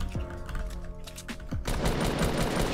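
Gunfire in the video game Fortnite: rapid bursts of automatic shots and sharp single cracks, loud and close, fire growing denser and continuous toward the end.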